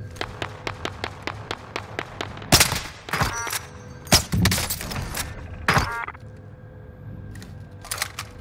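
Machine gun fire in the video game Call of Duty: Modern Warfare rattles out as a rapid, evenly spaced run of sharp shots, then heavier bursts and blasts follow at irregular intervals, loud and close, with no voices.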